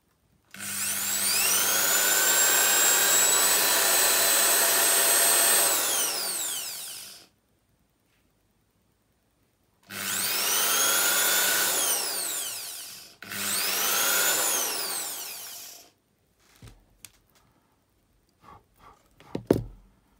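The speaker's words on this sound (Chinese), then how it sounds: "我去磨一下这颗螺丝。" A power grinder files the head of a small screw flat during a repair of a Sony Walkman TCM-450 cassette mechanism, in three loud close bursts of shrill whining with pauses between, then a few faint clicks and handling knocks.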